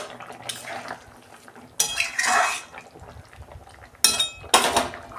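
Metal lid clanks and scrapes off a cooking pot of shukto, a vegetarian Bengali dish, in a few sharp bursts of clatter separated by quiet gaps.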